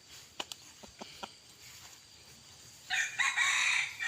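A decoy fighting rooster crows once, loud and close, after a few sharp clicks and taps, with the long strained call ringing out over a quiet background.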